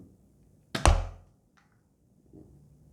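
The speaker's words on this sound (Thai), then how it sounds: "ใส่ลูกกระสุนเข้าไป แล้วก็ยิง" A Nerf toy blaster fires a single dart with one sharp, close thunk that trails off briefly, followed by a faint click and a soft rustle of handling.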